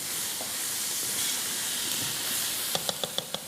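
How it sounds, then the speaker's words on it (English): Seasoned food hisses and sizzles steadily in a hot pan, a broad bright frying sound close by, followed near the end by a quick run of four or five sharp pops and crackles. "Now, I'm just going to pop these onto my pan, and I won't burn my hands."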